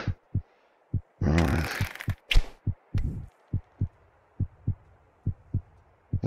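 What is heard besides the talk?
heartbeat in VR game In Death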